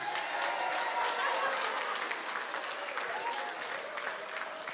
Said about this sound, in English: ladies and gentlemen, round of applause for the captains for today